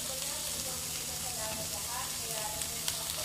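Bean sprouts are stir-fried with shredded vegetables in a pan, giving a steady sizzle with faint stirring scrapes. A voice talks quietly underneath.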